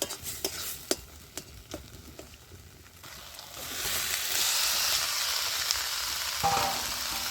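Winter vegetables are stir-fried with spice paste in a pan, starting with sharp scraping strokes of a spatula and swelling into a loud, continuous sizzle, with no voices.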